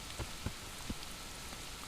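Steady rain in the online game Mortal Online, a soft continuous hiss of falling rain with a few faint drop taps, quiet and even throughout.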